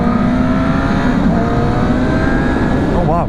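A 2019 Suzuki Katana motorcycle accelerating hard, a loud close engine roar with rising pitch held steadily throughout, ending with a quick shift-like change.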